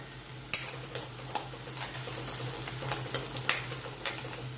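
Green garlic and peas sauté in a pan for Gujarati Rajwadi khichdi, giving a steady close sizzle broken by sharp scrapes and clinks of a stirring spoon, with nobody speaking.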